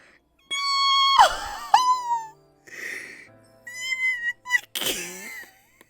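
A cat's drawn-out meows and wailing cries, voiced in a Twisted Wonderland story scene, come in several close, loud bursts separated by short pauses, with no talk over them.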